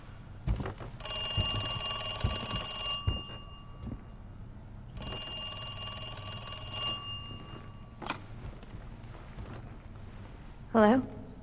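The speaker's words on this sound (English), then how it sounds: "I knew that damn phone was gonna ring." A telephone rings in Resident Evil 2: two long electronic bell rings a few seconds apart, fairly clear, with a voice talking quietly in the background.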